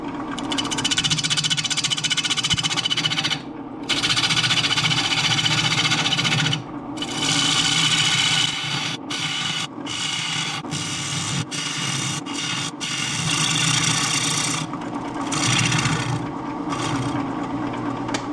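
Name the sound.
wood lathe turning red cedar at 600 RPM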